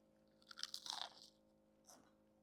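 Crispy fried baby anchovy fish is bitten and chewed close up, giving a quick cluster of sharp crunches followed after a short pause by one more brief crunch in a quiet room.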